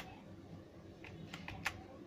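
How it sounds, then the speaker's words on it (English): A few sharp clicks from a computer keyboard's caps lock key, tested after repairing a keyboard with a broken USB wire, tapped several times over a low steady background hum. "click caps key"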